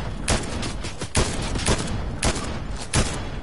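Sniper rifle fire during a Fortnite match: a run of sharp, loud cracks at irregular intervals, roughly six shots over a steady background rumble.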